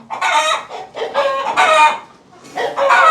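A hen squawks loudly in repeated harsh bursts, close to the microphone, with short pauses between the outcries.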